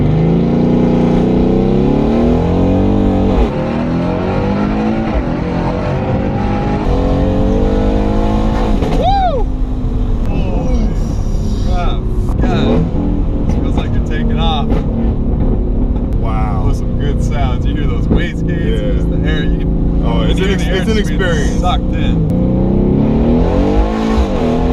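A Mercedes C300 accelerates hard with traction control fully off, engine roaring through rising sweeps and shifts at close range inside the cabin, with people talking and exclaiming over the noise.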